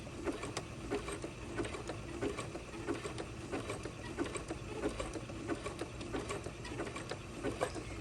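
A sewing machine runs steadily while stitching a zig-zag gathering seam, its fast, even mechanical whir and rhythmic ticking continuous and close throughout, with no talk.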